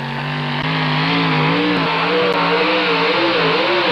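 Four-wheel-drive pulling truck at a 2001 NTPA truck pull in Galax, Virginia, its engine revving loud and steady throughout, pitch wavering as it strains down the track, with no talk over it.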